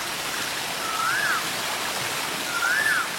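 A waterfall in a South Indian action film scene gives a steady, broad rushing hiss throughout, with two brief faint whistling chirps rising over the noise.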